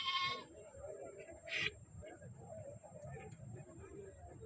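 A faint goat bleat rises above distant voices and chatter at a Siddipet livestock market, with a steady high electronic whine and a brief sharp noise midway.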